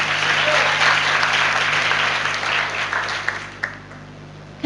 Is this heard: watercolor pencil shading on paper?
no